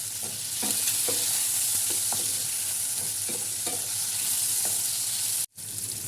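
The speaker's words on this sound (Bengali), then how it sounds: "মাছগুলো ভাজা হয়ে গিয়েছে" Prawns frying in hot oil in a pan, a steady loud sizzle with repeated stirring scrapes throughout, cut briefly near the end.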